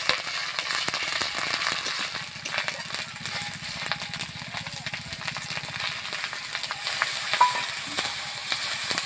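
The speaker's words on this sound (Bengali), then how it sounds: "মশলাটা ভালোভাবে কষিয়ে নেব।" Spice paste of ground ginger, chili and cumin mixed with water being stirred and fried in a pan for a village-style fish curry, a steady close sizzle with scraping stir strokes throughout.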